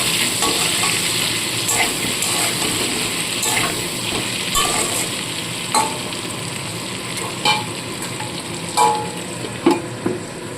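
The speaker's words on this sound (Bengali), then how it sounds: "এবার এগুলোকে ভালো করে নেড়েছে ভেজে তুলে নিতে হবে" Potatoes fry in hot oil with salt and turmeric, giving a continuous bright sizzle while a spatula stirs them, with irregular scraping knocks against the pan that grow sharper toward the end.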